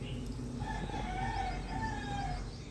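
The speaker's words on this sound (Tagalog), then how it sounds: "Yung magigising ka sa mga tilaok ng manok, no?" A rooster crows at a distance at 6 a.m. in Bulacan, Philippines, a single drawn-out call rising and falling over a steady background of rain or ambient noise.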